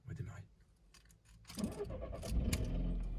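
A used car, slightly damaged, cranked with the key and catching on the first try, the engine rising into a loud steady idle after a short starter whir, with key and cabin clatter beforehand.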